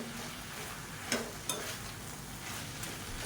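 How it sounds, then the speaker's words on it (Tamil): Curry leaves, coriander and mint stir-fried in a hot pan, a soft continuous sizzle with two brief scraping clinks of a spoon against the pan, quiet and close. "ஒரு கைப்பிடி கருவேப்பிலை கொத்தமல்லி புதினா எல்லாமே ஒவ்வொரு கைப்பிடி சேர்த்துக்கலாம் சேர்த்துட்டு லேசாக ஒரு புரட்டு புரட்டிக்கலாம்"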